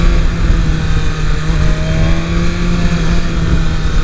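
A 2023 BMW S 1000 RR motorcycle engine on the street, loud and close, holding a steady high-revving drone throughout.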